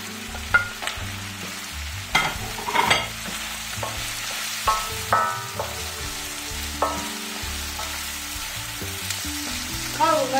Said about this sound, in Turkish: Biraz soğan kavurduktan sonra diğer malzemelerimizi ekleyelim.